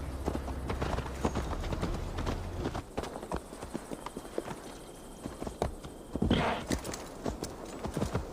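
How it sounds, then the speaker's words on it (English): Horse hooves clip-clop in Assassin's Creed Valhalla as a mount rides toward Tamworth, a quick, steady beat of close hoof strikes with light game ambience around it and no talk. "Mount up, Eivor. It's a long ride to Tamworth"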